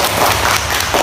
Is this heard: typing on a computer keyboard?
no